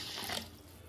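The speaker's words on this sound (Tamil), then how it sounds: "தண்ணி ஊற்றியாச்சு." Water poured from a tap over soaking idli rice, a short close splash that swells and then fades into a quiet trickle.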